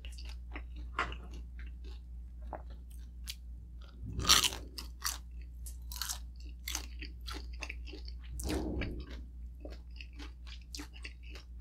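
Close, crisp crunching as grilled pork intestine is bitten and chewed, with two louder crunchy bites amid steady chewing sounds and no talking.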